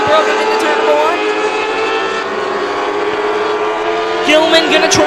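Race cars roar around the Star Speedway oval during a Classic Lite heat, a dense layered engine drone with rising revs near the end, under continuous trackside commentary.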